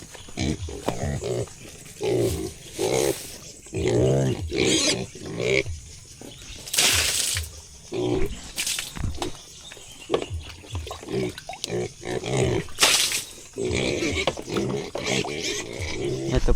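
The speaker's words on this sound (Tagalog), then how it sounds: "papainin naman natin ang ating talagang mga baboy" Farm pigs grunt, oink and squeal repeatedly at feeding time, loud and close, with sharp bursts of squealing among steady rooting grunts.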